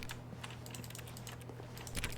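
A computer mouse button is clicked repeatedly while playing The Stanley Parable, giving quick, light, irregular clicks close to the microphone over a steady low electrical hum, with a slightly louder burst at the end.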